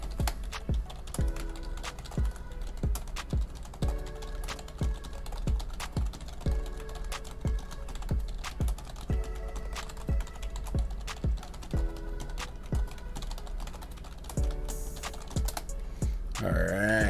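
Rapid keystrokes on a computer keyboard clatter in quick bursts close to the microphone, a busy irregular rhythm running throughout with a few louder clicks.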